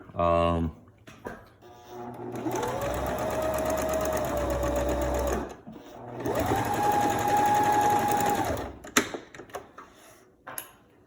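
A sewing machine runs two steady straight-stitch bursts on a medical mask, whirring close and loud with a brief pause between runs and clicks at the end.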